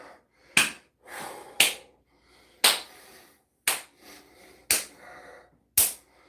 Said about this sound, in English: Check this one out,